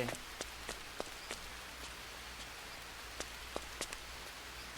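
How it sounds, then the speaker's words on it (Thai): Steady rain falls in the jungle survival game Green Hell, a constant soft hiss with scattered sharper drops tapping on surfaces, heard alone. "ฝนก็ตกไม่หยุดด้วย"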